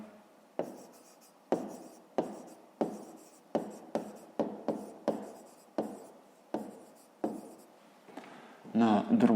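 A pen writes by hand on paper while a fifth-grade math exercise is being solved: about a dozen short, crisp strokes close up in an uneven rhythm, ending in a quick flurry of scratching.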